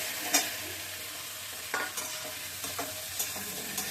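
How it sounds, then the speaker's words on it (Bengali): Food frying in a pan, a steady sizzle under repeated scraping and clinking stirring strokes of a spoon against the pan, close and alone. "একটু ভালো করে ভেজে নিই।"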